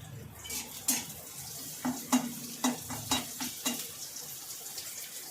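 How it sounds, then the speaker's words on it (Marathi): Finely chopped onion fries in oil, making a steady sizzle under a run of short clinks and scrapes of a spoon stirring against the pot. "कांदा टाकणार त्याच्यात. कांदा चांगला वाफरू देणार तेलामध्ये."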